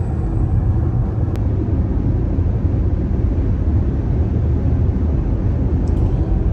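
A Ford Mustang Mach-E cruises at speed down a road on a nice day, giving a steady broadband rumble of tire and wind noise from inside the cabin, constant and fairly loud with no talking.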